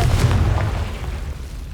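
A Confringo blasting spell goes off in Hogwarts Legacy: a heavy, low boom hits at the start and then rolls away into a fading rumble, with no voice over it.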